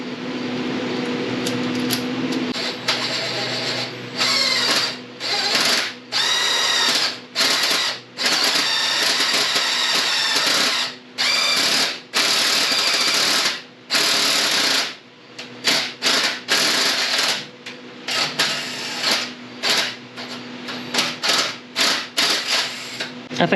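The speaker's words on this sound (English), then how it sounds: "Now I'm going to step it up to my 1/4 inch drill bit." A drill fitted with a 1/4 inch bit runs in repeated short bursts, starting and stopping in an uneven rhythm, the motor whine rising and falling close by.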